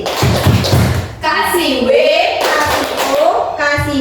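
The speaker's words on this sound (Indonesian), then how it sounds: "Kita kasih tepuk apresiasi" Classroom group of children performing a rhythmic appreciation clap routine, a burst of several close, loud claps and thumps followed by chanted voices, with a second clapping burst near the end.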